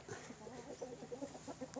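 Laying hens on a small mixed vegetable and fruit farm cluck in a quick, steady run of short calls, close and fairly soft.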